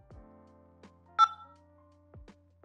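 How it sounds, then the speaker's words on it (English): Telephone keypad DTMF tones from an automated phone payment system: a few short key beeps, one louder and sharper in the middle, separated by quiet low clicks, with no speech. "using your phone keypad, please press the key on which the first character of your number plate resides"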